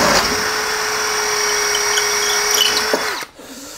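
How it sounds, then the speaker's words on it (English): Power drill with a masonry bit boring through block beside a window frame, a steady loud whine held for about three seconds before cutting off abruptly. "back to the masonry bit, just for a final quick hole through the block"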